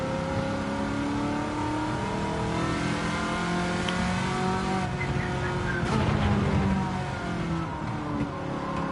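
A World Touring Car 700 race car in Gran Turismo 7 holds a steady, droning engine note, and the pitch drops when it shifts up a gear partway through.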